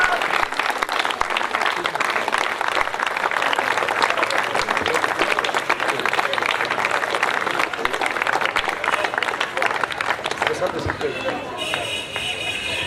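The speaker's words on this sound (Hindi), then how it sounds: "जोरदार तालियों के साथ." An audience at a cricket final ground cheers for a player, with a dense, steady wash of applause and crowd noise continuing loudly throughout.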